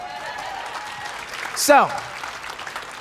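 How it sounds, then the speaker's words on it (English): Seminar audience applause at a marketing talk, a soft and fairly distant patter of clapping under the room tone, with a speaker's brief voice rising midway. "You can go ahead and give that a round of applause."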